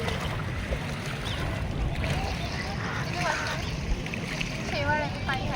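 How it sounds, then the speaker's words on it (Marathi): Small wind-driven waves on a lake lap and splash softly and continuously, with faint voices and some chirping in the background. "इथे पाण्याच्या ज्या लहर येत आहे हां, त्या पाण्यामुळे येते, हवेमुळे."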